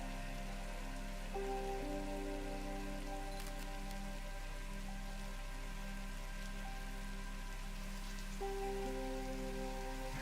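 Rain falls steadily in the factory-building video game Satisfactory, a constant, even patter over a low hum and soft sustained ambient tones, with no voices.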